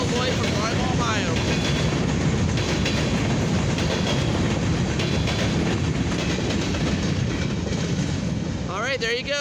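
A westbound CFE grain, mixed freight and steel train rolls past a Main Street railroad crossing on Ohio State Route at night, with loud continuous wheel rumble and clickety-clack, plus horn blasts near the start and end.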